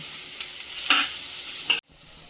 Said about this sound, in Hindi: अभी इसमें जो चना उबाले थे वो डालेंगे। इसे 5-7 मिनट भूनेंगे।